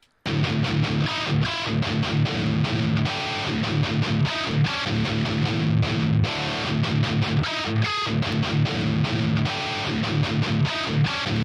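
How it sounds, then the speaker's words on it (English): Distorted electric guitar, a tone printed from a Kemper amp, plays a continuous driving riff, loud and dense with chugging rhythmic chords and no voices. "We have a guitar track that sounds like this."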